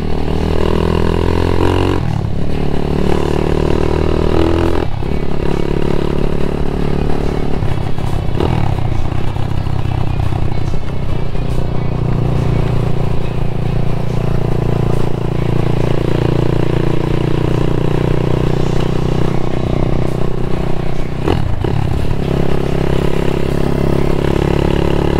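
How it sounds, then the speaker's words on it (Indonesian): A small motorcycle climbs a steep uphill road, its engine droning loud and close with shifting pitch as it labours and revs, accompanied by rattling clatter throughout. "Motornya lucu, tenaganya sangar."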